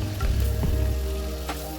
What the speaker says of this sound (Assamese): এই তেলতে আকৌ এতিয়া মই ভাজি ল'ম মিছা